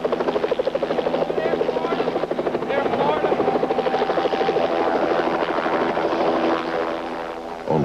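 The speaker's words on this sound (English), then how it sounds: "helicopters hovered over the river," A helicopter hovers nearby, its steady rotor thumping and engine drone loud and continuous, with faint voices underneath.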